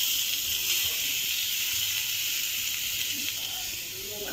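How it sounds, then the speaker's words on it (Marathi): Ground masala paste of dry coconut, Malvani masala and salt sizzles on a hot tava, a continuous loud even hiss with no talking. "मी तवा तापत ठेवला होता। आपल्याला हे वाटण भाजून घ्यायचं आहे।"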